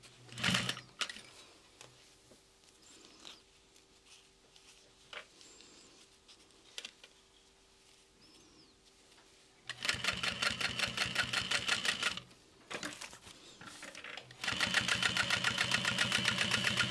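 After quiet handling and light clicks, a sewing machine top stitching an Oakley backpack starts up and runs in two close, loud bursts, with a rapid rhythmic needle chatter separated by a brief pause.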